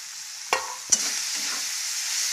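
A spoon stirs tomato into Schezwan fried rice in a pan, with two sharp clinks against the pan followed by a soft, steady sizzle and gentle scraping, heard alone.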